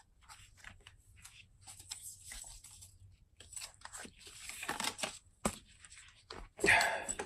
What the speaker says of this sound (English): I dropped the deck just now, so that sound is not me hand selecting a card for you.